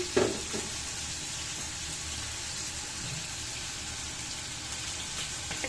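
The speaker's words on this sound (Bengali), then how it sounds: "আমি ভাজি দিয়ে দিই বরবটি" Yardlong beans fry in spiced oil in a pan, a soft continuous sizzle with a brief knock near the start, moderately close and steady with no talk.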